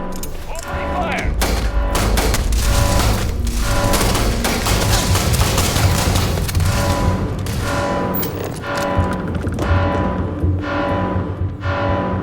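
Sustained gunfire in the video game Starfield, dense bursts of shots and booming impacts coming in waves across the clip, with voices talking over the shooting.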